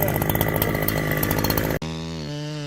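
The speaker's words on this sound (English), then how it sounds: "gripping the roaring chainsaw tightly" A chainsaw cuts into a tree trunk high above the ground, a loud, close, buzzing roar under full load that abruptly drops off as the cut ends, then idles with a lower steady drone.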